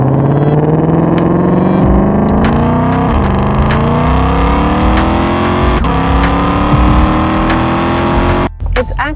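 A 2020 Ford Mustang Shelby GT500 with a 760-horsepower 5.2-liter V8 revs steadily upward, its engine note rising continuously and loud throughout, with a person talking over it before it cuts off near the end.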